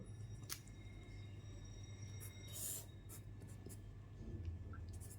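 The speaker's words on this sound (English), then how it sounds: "let us write here" Marker writing on a board in a chemistry lesson, faint, sparse scratchy strokes in short bursts over a steady low hum, with no talking.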